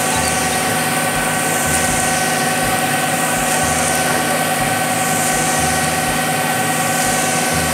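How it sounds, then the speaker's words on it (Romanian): A concrete mixer truck engine idles steadily and loudly, a continuous vibrating drone with a low, pulsing rumble throughout. "Mobil, truk molen."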